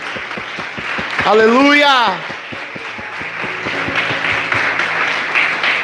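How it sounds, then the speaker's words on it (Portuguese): A church congregation applauds in praise, a steady broadband wash of clapping running through the whole stretch, with a loud voice crying out over it early on and rhythmic thumps underneath. "Aplauda ao Senhor."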